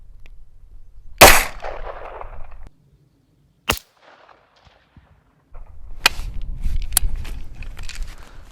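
AR-9 rifle fired at a 100-yard target outdoors, one loud sharp close shot followed by a couple of fainter cracks and some rustling, no talk.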